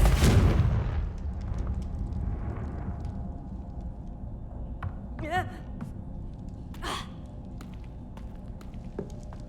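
A burst of spell impacts in Hogwarts Legacy opens loudly with a deep booming blast, followed by a fainter crackling hit around midway, over steady game background and music.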